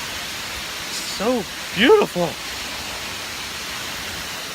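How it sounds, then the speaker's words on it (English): A steady broadband rush of a mountain waterfall fills the air along a hiking trail, and a voice briefly speaks over the constant roar. "Waterfall again."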